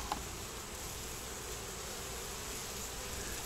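Honey bees swarm at the front of a hive with a dense, continuous buzzing drone that holds steady throughout, near and uninterrupted.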